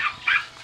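A dog gives a couple of short, sharp yips or barks close by in a home, each one quick and bright with a brief gap between, heard alone without talk.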